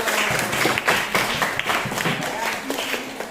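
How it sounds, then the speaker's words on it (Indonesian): A group of students in a classroom claps for the fifth group after its Islamic jurisprudence presentation. A brief, dense patter of hands at moderate volume fades toward the end. "beri tepuk tangan untuk kelompok 5"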